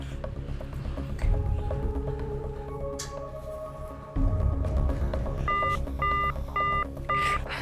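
A phone keypad is dialed, with a string of short, evenly spaced tone beeps near the end over low background hum and room noise.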